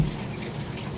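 Shower water runs steadily over a scarlet macaw parrot, a continuous close hiss of spraying water with no talk.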